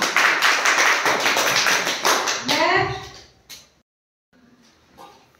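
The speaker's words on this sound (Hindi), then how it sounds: "तालियां बजा लीजिए खुशी के लिए।" Children in a primary school classroom clap together in a quick, dense burst that fades after about three seconds, followed by a brief sung or spoken sound and then near silence.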